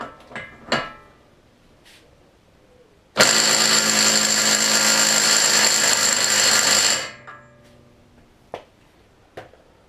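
A handheld electric power tool whirs loudly for about four seconds while trying to loosen a nut on the front axle of an R32 Skyline GTR, with quieter clanks and taps before and after.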